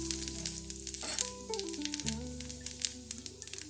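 Cumin seeds sizzling in a little hot oil in a pan, a close crackling sizzle with sharp popping bursts, under steady background music.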